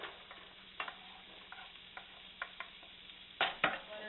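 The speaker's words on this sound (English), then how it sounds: "We're going to add in our onions first to that." Onions sauté in a pan for confetti rice, a faint, steady sizzle broken by scattered sharp clicks of a utensil scraping and stirring, growing louder near the end.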